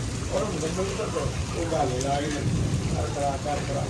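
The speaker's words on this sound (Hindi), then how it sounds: "लेकिन बारिश स्टार्ट हो गई है।" Steady rain hisses and patters on surfaces while a voice talks quietly underneath.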